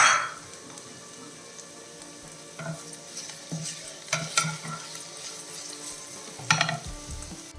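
Sliced onion and green chillies sauté in a hot pan with a low, steady sizzle, broken by irregular scrapes and clinks of a spatula stirring, close up, with no one talking.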